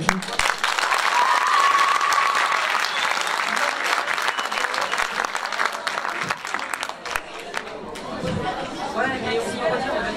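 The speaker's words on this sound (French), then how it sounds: "Applaudissements s'il vous plaît." Audience applause at a live song show, a loud wash of clapping that thins after several seconds into scattered claps mixed with crowd chatter and voices.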